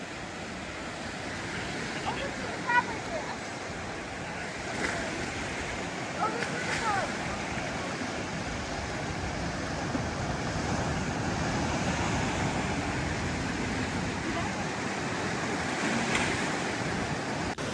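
Pacific surf rolls in on a California beach in a continuous roar of breaking waves, with wind buffeting the microphone and occasional voices in the background.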